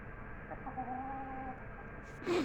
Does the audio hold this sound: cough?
no